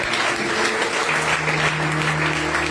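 Loud, continuous applause from a church congregation during a worship service, a dense wall of clapping with a held voice or tone sounding beneath it.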